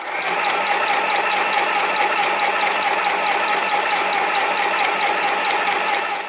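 A Janome mini sewing machine stitches a decorative stitch. Its motor whirs in a loud, steady rapid mechanical chatter, and the needle mechanism ticks evenly for the whole stretch. No voices.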